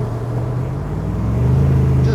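A 1965 Shelby Cobra's exhaust rumbles steadily and close by during a downshift, rising slightly in loudness toward the end.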